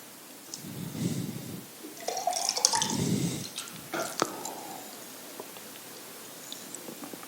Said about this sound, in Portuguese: Enquanto isso, o Titinho vai beber um gole d'água aqui.